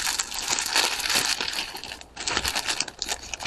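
A plastic bag of small cylinder beads is handled up close, giving continuous crisp crinkling and rustling with a short pause midway.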